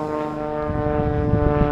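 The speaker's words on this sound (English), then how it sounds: "that's a loud little airplane" Small, loud propeller airplane flying low overhead outdoors, a steady droning engine hum with strong harmonic tones that swells slightly as it passes.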